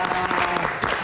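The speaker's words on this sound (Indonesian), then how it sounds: "Kita kasih tepuk tangan lagi." A studio audience at an evening talk show greets a young singer with dense, steady applause at close range, a brief full burst.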